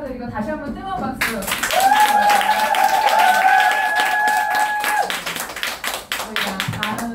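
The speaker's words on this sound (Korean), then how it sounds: "축하드리고 다시 한번 뜨거운 박수." Audience at a Nu Skin business seminar breaks into sustained, dense clapping after a talk and keeps it going for several seconds. A steady held tone rings through the applause, with some voices underneath.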